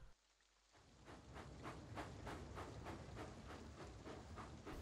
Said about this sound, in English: This rain is making the rail slippery!